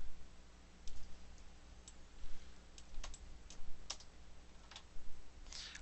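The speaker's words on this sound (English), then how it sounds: "I tap spacebar on my keyboard to toggle in between viewports" Sharp clicks of a computer keyboard being typed on and the spacebar tapped, landing in irregular scattered strokes, close and fairly quiet over a faint steady low hum, while modeling a bookshelf in Autodesk Maya 2019.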